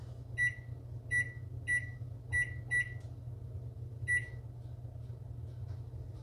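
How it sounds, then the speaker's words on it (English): Six short electronic beeps from a kitchen oven timer being set for blueberry muffins, evenly spaced at first with a pause before the last one, over a steady low hum of the oven or room. "Let's set the timer."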